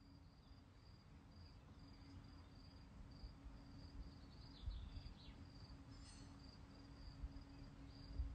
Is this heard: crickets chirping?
yes